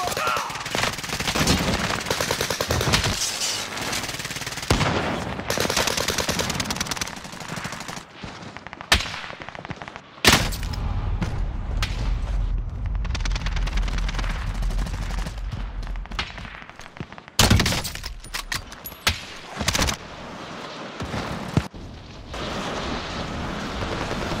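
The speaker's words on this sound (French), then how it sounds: "Attention, j'essuie des tirs." Sustained bursts of video game gunfire, loud automatic machine-gun rattles and scattered shots that stop and restart, with a heavy rumbling stretch midway; a radio-style voice speaks in French between volleys.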